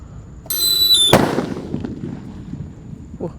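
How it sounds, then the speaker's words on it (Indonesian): Half a second of piercing whistle from a jumbo whistling thunder firework under a pan ends in one sharp, loud explosion nearby. A long rumbling tail follows, and a faint voice sounds at the end. "ada jumbo whistling thunder guys, terbesar ini"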